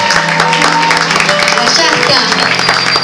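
Audience applause for a guest during a live music performance, steady dense clapping filling the room with music and a brief spoken remark over it.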